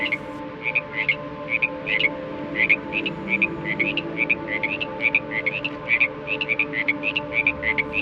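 Repeated short chirping croaks of frogs at a steady pulse over a low, continuous background hum, moderately close and fairly loud.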